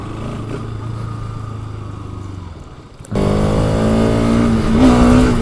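A motorcycle engine drones steadily while riding through city traffic in Bursa, then a louder, closer engine note rises with a revving whine near the end.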